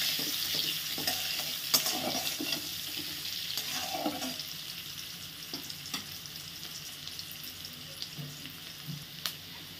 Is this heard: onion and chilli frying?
yes